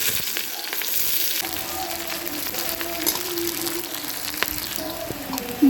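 Onions frying in a pan, a steady close sizzle with occasional stirring clicks and scrapes, no talking.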